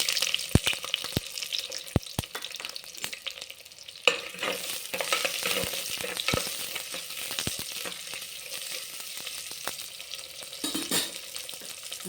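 Onions and curry leaves frying in a pan for tomato kuzhambu, a close, steady sizzle with scattered sharp clicks of a spoon stirring, and no talking.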